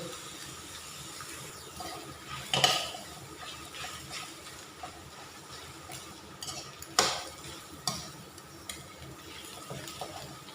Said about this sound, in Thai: เราก็สิเอาใส่เส้นเอาใส่ผักกันแล้วเนาะพัด